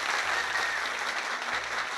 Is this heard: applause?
yes